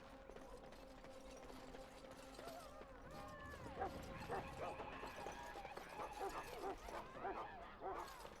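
Dog barking in the video game Dragon Age: Origins, several yips and barks over a steady game ambience with a mechanical hum, with character voices talking alongside.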